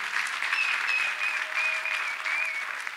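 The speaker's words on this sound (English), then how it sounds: "Can you make this clapping more beautiful?" A church congregation at Shekinah Glory of Faith Ministry claps in a steady, dense roar of applause, with a few thin whistle-like tones riding above the hands throughout.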